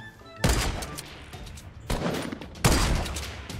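Three loud bursts of rapid gunfire from a Fortnite Battle Royale match, each a sharp cluster of shots with short gaps between, close and dominant with no talk over them.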